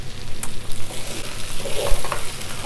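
Mutton pieces with two tomatoes and a handful of shallots roast in a pan for salted lamb curry, stirred with soft scraping and a steady close sizzle that rises and falls with each pass of the spoon.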